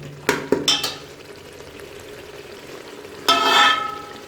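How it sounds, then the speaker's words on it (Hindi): Minced meat (keema) frying in ghee, a soft steady sizzle punctuated by a few sharp clinks and scrapes of a spoon against the pan, then a louder stirring burst near the end. "कीमा हमारा भुना जा रहा है और ये घी छोड़ रहा है।"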